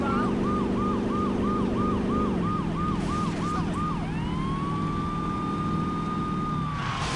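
Police siren wailing in the Saints Row video game, a rapid repeating yelp for several seconds that shifts into a long steady wail, loud and close over continuous engine rumble.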